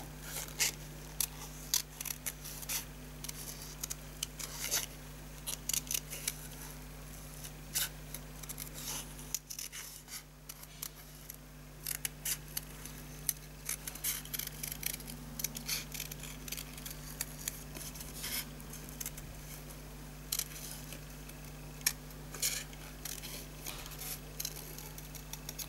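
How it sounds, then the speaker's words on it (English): Paper flourishes cut out by hand with scissors make quiet, close snipping and rustling in an uneven run of small cuts, set against a faint steady electrical hum. "Now, to cut these flourishes out, I'm just going to go in and out,"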